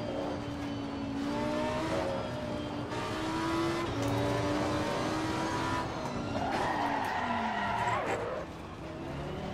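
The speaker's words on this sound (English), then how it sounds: "You can hear the brakes lock up properly there." A race car in Assetto Corsa Competizione locks its brakes and skids, tire squeal over a loud steady engine drone with shifting pitch, rising sharply near the end before the engine fades.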